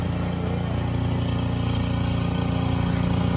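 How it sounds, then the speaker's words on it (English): A snow blower runs steadily outdoors, a continuous low engine drone holding at even loudness throughout with no voices. "is outside snow blowing"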